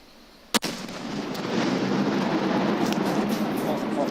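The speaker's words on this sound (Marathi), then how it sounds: "हा बॉम्ब नष्ट करण्यात आलाय." A controlled detonation of an IED bomb in Kishtwar gives one sharp, loud blast, followed by a long, broad rumbling roar that carries on to the end.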